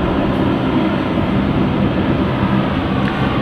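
A Dash 8 turboprop at London City Airport gives off a steady, loud, broadband engine roar that holds evenly throughout, with no talk over it.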